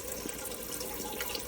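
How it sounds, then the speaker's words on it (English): Water trickling and dripping down through an indoor aeroponic Tower Garden, cascading over plant roots: a steady, close, continuous splashing patter with no pauses. "You can probably see the little drips of water coming down on this plant right now"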